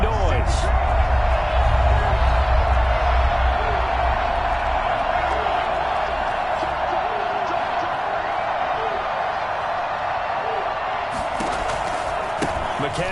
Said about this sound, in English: And this crowd urging on their defense.